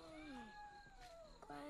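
A cat meows a few times in short, rising and falling cries from close by, in a scene from a 2009 Taiwanese film, with a person's voice speaking softly around the calls.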